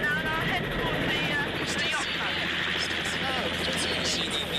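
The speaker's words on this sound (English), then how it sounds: "Getting out of the helicopter now" A helicopter heard from close by as passengers climb out at a yacht club, its steady, loud engine and rotor roar filling the whole clip, with people talking under the noise.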